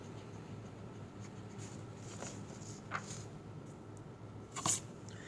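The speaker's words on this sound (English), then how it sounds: "And then we erase the part that we don't want." Soft rubbing of an eraser removing part of a drawn graph on paper, faint scrubbing strokes over a low steady background, with a couple of slightly louder scuffs near the end.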